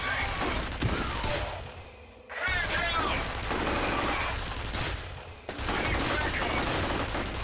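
Gunfire in the video game F.E.A.R. comes in dense, loud bursts of rapid automatic shots separated by brief pauses, with someone talking over the shooting.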